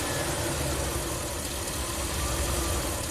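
Ram camper van engine at rough idle as the gas pedal is pressed, a dense steady mechanical rumble with slight knocking vibration, close and loud with no talking.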